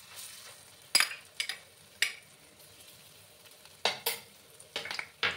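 A paste is added to a frying pan for a vegetarian paneer curry, and spoon scrapes and stirring bursts come in several separate strokes over a faint, quiet sizzle.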